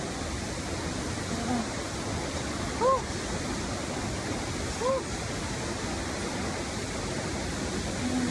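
Tinago Falls in Lanao del Norte sends out a constant broad roar of falling water, with a few faint chirps above the rush.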